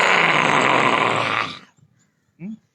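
A person imitates a lion roar with a loud, breathy, sustained voiced roar, then falls quiet and gives a short grunt.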